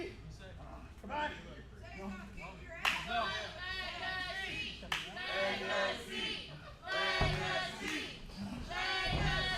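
A wrestling crowd claps and cheers in a busy arena during an AAPW match, the applause rising in bursts under steady commentary and shouting.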